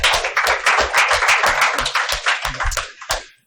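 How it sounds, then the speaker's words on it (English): Audience applause welcoming a speaker to a business presentation, loud close clapping from a modest crowd with distinct individual claps, sustained before tapering off near the end. "let's give him a round of applause and welcome him in"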